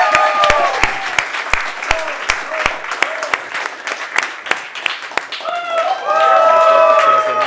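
A conference audience at a demo day applauds the next speaker, a burst of close, crisp hand claps that thickens into dense crowd applause and rises toward the end.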